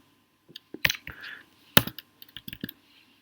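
Code is typed on a computer keyboard in short, irregular bursts of crisp key clicks, with a few louder presses standing out, close up and with no voices.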